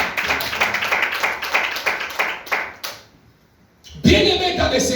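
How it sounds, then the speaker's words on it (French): A church congregation claps and cheers in praise, with rhythmic clapping that breaks off, a short near-silent gap, then a louder burst of applause and voices. "Est-ce qu'on peut acclamer pour le Seigneur?"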